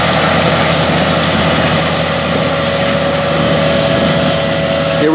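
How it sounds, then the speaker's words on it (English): A seed drill cart's air compressor, towed by a Challenger MT855B tractor, drones on without pause, loud and close, with a constant low engine-like tone and no voices. "You can hear the humming. That's the compressor pushing the seed up through the drill."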